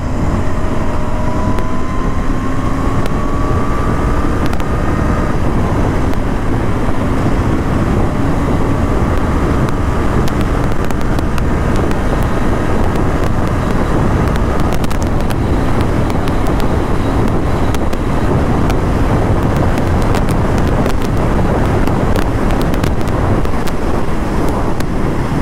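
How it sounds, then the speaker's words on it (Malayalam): A 2020 BS6 Royal Enfield Interceptor 650 motorcycle runs at speed on an open road in crosswind, its engine drone steady and loud beneath heavy wind roar on the microphone, with faint rising engine tones early on. "ക്രോസ് വിൻസ് ഉണ്ട്, അതുകൊണ്ടാണ് ഞാൻ 5th gear വരെ റെഡ് ലൈൻ ചെയ്തുള്ളൂ."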